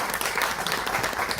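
Audience applause for a guest at a Marathi novel launch event, a steady dense wash of many hands clapping throughout, fairly loud and close, with no talk over it.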